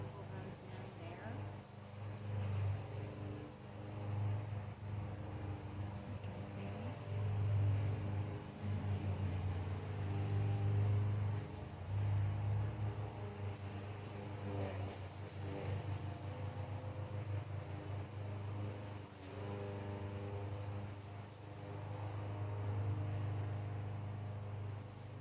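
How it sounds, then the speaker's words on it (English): A neighbor's lawn mower cutting grass, a steady mid-pitched engine hum that rises and falls slightly and stays fairly distant, under close speech in a greenhouse garden. "my neighbor is cutting their grass right now"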